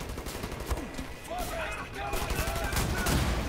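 Gunfire in the shooter Wolfenstein: The New Order, repeated shots and bursts cracking over a busy combat soundscape, loud and steady throughout, with a voice talking over the action.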